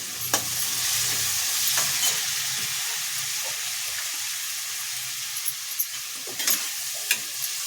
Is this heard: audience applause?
no